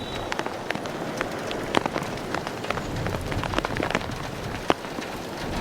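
Heavy rain pours down during a cyclone in Cuddalore, a dense, steady hiss of drops close by, broken by frequent sharp spatters and splashes, loud and with no talk over it.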